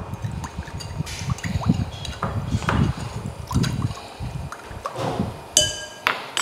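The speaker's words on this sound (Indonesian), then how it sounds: "Ini kita rendam dengan air." Plain water splashes and trickles into a bowl of sliced potatoes set to soak, with irregular bursts of pouring, light clinks against the container and a few brighter splashes toward the end, close and fairly loud.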